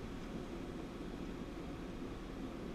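A jet ski engine throttles up to drive a flyboard at a Carolina FlyBoard training session, giving a steady broadband roar with a strong low rumble that holds at a constant level throughout, with no voices.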